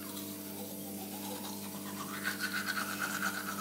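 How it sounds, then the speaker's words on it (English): A toothbrush scrubs teeth at close range in a bathroom during a morning routine, a steady rhythmic bristle brushing with rapid back-and-forth strokes, heard alone without talk. "I've got my toothbrush ready and I'm going to brush my teeth"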